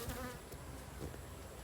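A single angry bee buzzes in a steady faint drone during removal of an elevated beehive whose bees are being driven off the honey with Fisher's Bee Quick. No one speaks.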